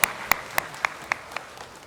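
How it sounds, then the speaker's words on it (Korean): A congregation at a Sunday church service claps in a faint, slow, evenly spaced rhythm, about seven distinct claps that fade toward the end, with no voices. "하나님께 영광의 박수를 올려드리겠습니다"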